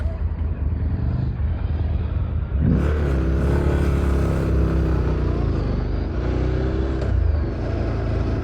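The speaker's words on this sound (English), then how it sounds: "Got a big black car and a load of bikes coming down for anyone that's behind." A car and a group of motorcycles pass on a mountain pass, engine rumble swelling as they approach and go by, heard over the steady close drone and wind of the recording motorcycle.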